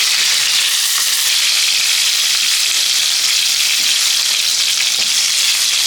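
Brinjal slices fry in hot oil in a pan for a prawn and brinjal curry, giving a steady, loud, close sizzle with faint crackles that runs without a break and stops sharply at the end.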